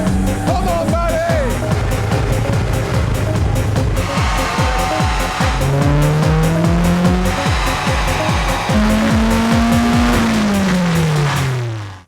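A rare car's engine and exhaust rev hard on a dyno run, a loud, close, continuous roar with tones that climb and drop as it winds up through the gears, with a little talk faintly underneath.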